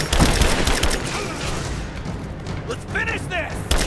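Heavy gunfire in a Rise of the Tomb Raider firefight, rapid overlapping shots and thudding blasts that ease off midway, then a voice calls out over lighter firing before a final loud burst.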